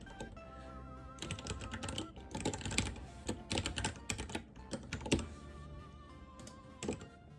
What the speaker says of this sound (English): So let's type in this statement right here.